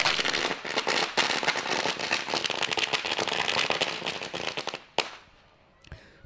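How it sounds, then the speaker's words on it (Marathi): Firecrackers burst in a rapid, loud volley at a night village cricket tournament, a continuous crackling string of explosions that ends in a few sharp final bangs and scattered pops. "फटाक्यांच्या आतषबाजीमध्ये"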